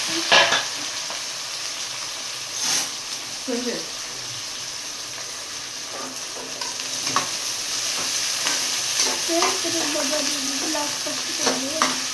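Onions fry in a pan for biryani while being stirred toward brown, with a continuous sizzle broken by scraping stirs and faint background voices.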